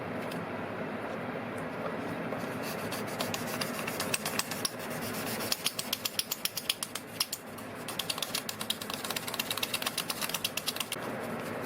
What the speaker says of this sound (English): this is going to take a long time to finish sanding